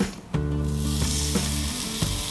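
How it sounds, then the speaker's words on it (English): Skin-side-down salmon sizzles in a hot oiled pan with a steady crackling hiss, punctuated by a few metallic clanks and ringing tones. "You hear that sizzle?"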